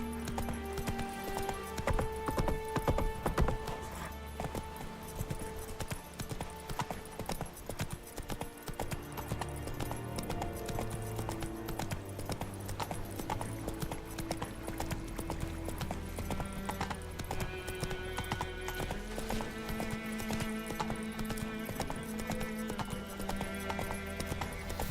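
Hooves of a horse clip-clop steadily in The Witcher 3, a continuous rhythmic trotting under a dense game soundtrack with music and ambience throughout.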